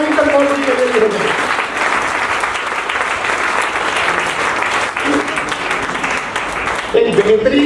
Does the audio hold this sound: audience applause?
yes